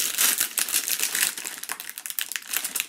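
Crinkly snack packaging from the Czech Republic is handled and squeezed, giving close, continuous crackling and rustling bursts of uneven loudness with no talk.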